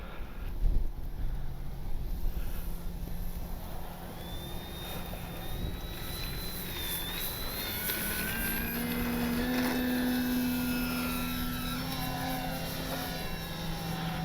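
Buzzing whine of a Durafly Tundra V3 RC bush plane's electric motor rising and falling in pitch as it flies in windy conditions, over steady wind noise.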